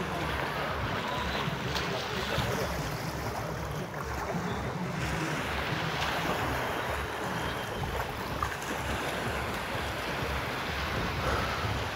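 Banana boat towed at sea off a beach at Vitiazevo, Anapa, with a steady wash of waves, water and wind noise masking any distant motor throughout, and no clear voices.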